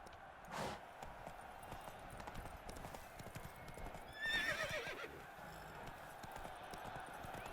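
Roach, the horse in the Witcher 3 video game, gives a loud whinny and then trots with steady clip-clopping hooves under a continuous game ambience, with a brief louder burst early on.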